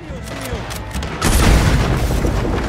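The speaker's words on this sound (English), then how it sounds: "Look at that explosion!" A large explosion in the video game Red Dead Redemption 2 during a bank robbery shootout, a loud booming blast that swells and rumbles on after a stretch of quieter game sounds.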